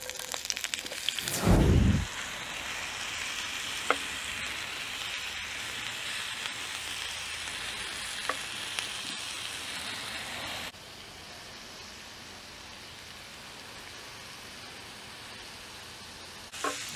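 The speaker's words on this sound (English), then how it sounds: "We start with the onions, fry them glassy." Onions frying in oil in a preheated Dutch oven, a steady soft sizzle running throughout with a brief louder burst near the start and occasional small pops, becoming slightly quieter toward the end.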